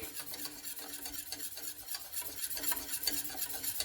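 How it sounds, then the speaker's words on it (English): A mille-feuille cream mixture is stirred in a saucepan over the heat as it thickens, giving a continuous close scraping and swishing in an even rhythm with a faint sizzle, without any talk. "Then I'll put it on the heat. Keep stirring until it thickens up."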